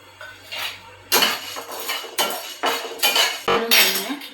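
Split roasted gram is roasted in a pan with spoon or spatula strokes, giving a run of sharp metallic scrapes and clinks at an irregular pace, loud and close with no talk.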